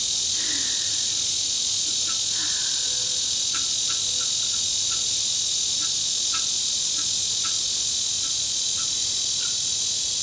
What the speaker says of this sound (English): I forgot to include cicadas in my circle.